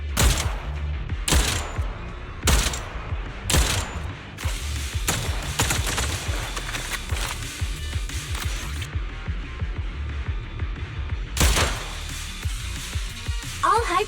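Gunfire in the Zenless Zone Zero video game, bursts of sharp rapid shots in clusters with a longer sustained volley, mixed with game effects and a person talking.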